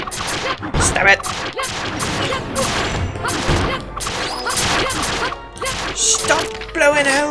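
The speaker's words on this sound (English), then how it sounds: "Stop blowing holes in my ship!" Monsters in Dragon Quest Builders blast holes in the walls of a ship, producing loud, rapid thuds, whacks and crashes layered densely with a person talking excitedly over them.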